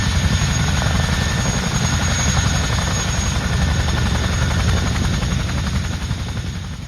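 A British Army Chinook helicopter at a small airfield, a loud, close, continuous rotor thump and turbine whine holding steady throughout and fading slightly at the end, with no talking.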